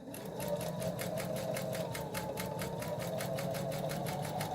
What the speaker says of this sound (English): I will sew around on the outside of the seams.